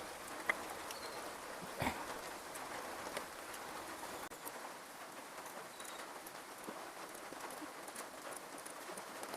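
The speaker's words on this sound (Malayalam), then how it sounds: "പുറത്ത് നല്ല മഴയാണ് കേട്ടോ." Heavy rain falls outside, a steady even hiss heard from indoors, with a few faint knocks and taps over it.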